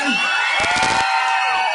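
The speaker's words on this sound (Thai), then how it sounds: "ถ้าชอบขอเสียงกรี๊ดกันกับสิงโตหน่อยได้ไหม" A crowd screams and cheers loudly and without a break, with a short rattling burst of noise in the middle.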